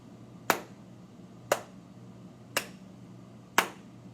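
Four sharp, evenly spaced snaps or claps, one per second, crisp and close against a quiet background.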